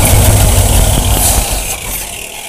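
A Ford Bronco engine idles just after a cold start, a loud, close, rough low rumble that settles slightly over a couple of seconds.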